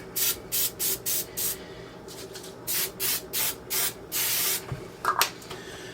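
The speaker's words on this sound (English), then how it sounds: "I'm going to give it a quick spray with some cooking spray" Short bursts of cooking spray hiss in a steady series onto a ham braid, close up, with a longer burst and a light clatter near the end.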